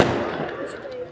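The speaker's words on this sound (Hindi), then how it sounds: "ओहो पटाखों से ही भी हिल रहा है।" Firecrackers go off outside, a short burst of crackling pops that fades out over about a second, heard indoors behind a faint voice.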